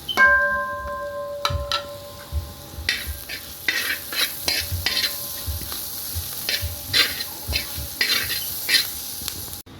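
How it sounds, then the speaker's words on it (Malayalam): Curry leaves hit a hot pan of vegetable stew base with pepper powder, crackling and sizzling close up while a spoon scrapes and stirs in an irregular rhythm, after a short electronic beep. "കറിവേപ്പിലയും കൂടി ആഡ് ചെയ്യാണ്."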